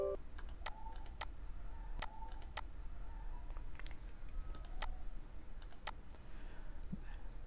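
Computer mouse clicks while disabling Windows Defender settings in Windows 10, a series of sharp, close, quiet clicks spaced irregularly over a low steady background hum, with no talking.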